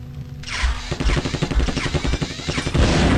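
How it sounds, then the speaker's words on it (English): Explosions and rapid gunfire from the early 3D game The Terminator: Future Shock, with a dense burst of loud, repeated shots that crackle steadily for about two seconds, followed by a heavy rumbling blast. "Get out of the way from the explosion."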